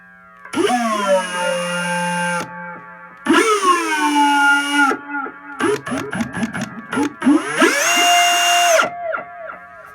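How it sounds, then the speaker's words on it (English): An electric drill, used to test a single-coil guitar pickup, whines in several bursts, revving up and down with pitch sweeps, loud and close, with short pauses between runs. "Or you can get a drill."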